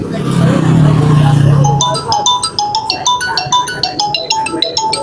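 An incoming customer call rings a phone inside a taxi, a repeating electronic ringtone melody sounding clearly after a stretch of low engine rumble.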